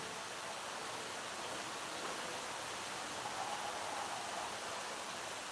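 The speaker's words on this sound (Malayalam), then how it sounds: "അവിടെ മഴ പെയ്യുന്നു ഒരു സമാധാനവും ഇല്ല മഴയ്ക്ക്" Dense, even hiss of steady rain pouring down, constant and unbroken, with no voices heard.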